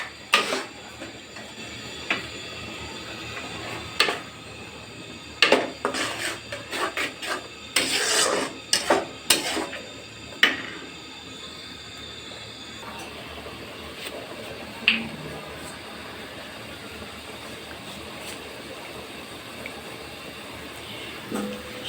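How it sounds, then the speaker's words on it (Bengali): Spice paste for beef liver curry (kolija bhuna) is stirred and scraped in a pan, with rough rasping strokes and clinks of a spoon against metal coming in irregular bursts, then quieter sizzling. "এই মশলাটাকে আমি ভালো করে কষিয়ে নিব।"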